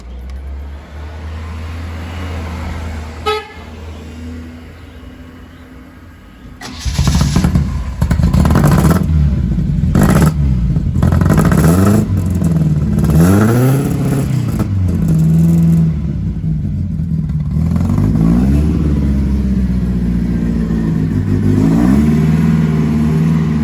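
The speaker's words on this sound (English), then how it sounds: "when you start the engine and you listen to it" An Alfa Romeo Duetto engine cranks and catches, then revs up and down repeatedly at close range, loud and rough, with the idle rumbling between blips.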